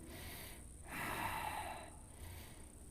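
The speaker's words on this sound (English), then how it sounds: "Breathe deep." A deep, slow breath drawn in and pushed out during a yoga back bend, faint and close, with a soft hiss of air rising and falling once in a quiet room.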